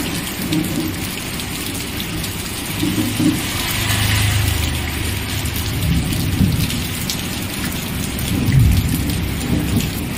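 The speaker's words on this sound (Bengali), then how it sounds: "প্রচুর বৃষ্টি, তাই তো?" Heavy rain pours steadily on surfaces while thunder rumbles low and long, swelling in the middle and again near the end, loud and close with no voices.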